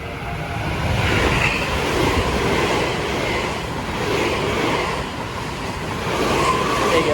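A train in Japan rolls past on the railway, a loud, continuous rumble and rattle of wheels with gentle swells in level across the whole stretch, heard from close by with no talk.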